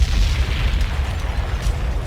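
Explosion sound effects rumble as a dense, loud, continuous roar of booming bursts heavy in the low end, with no break across the whole stretch.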